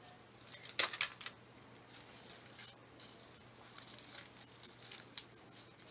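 The soft, black rotten part of a dahlia tuber being cut away: a few faint, close snips and crunchy cuts with light crinkling in between, quiet and with no talking.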